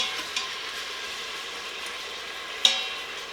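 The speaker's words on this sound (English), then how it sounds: "It looks like we are done searing on all sides" Ribs searing in an Instant Pot, a steady close sizzle of frying meat with a couple of brief clanks and scrapes breaking through.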